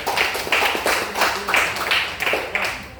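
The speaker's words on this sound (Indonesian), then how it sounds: "tepuk tangan untuk kelompok 1" Steady rhythmic clapping, about two claps per second, near and fairly loud, like a small group of students clapping in unison in a classroom.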